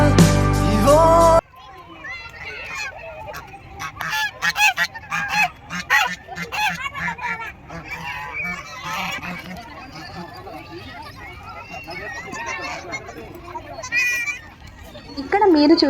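Guinea fowl call in Machilipatnam Municipal Park in Andhra Pradesh, giving repeated harsh, honking cries close by after a brief loud burst at the start, with people and children talking nearby.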